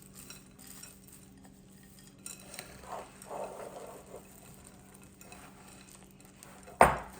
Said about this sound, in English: Now mix this before you chill it